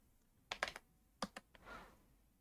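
A few quick keyboard key clicks close up, in two short clusters, followed by a soft brushing sound; quiet, with no voices.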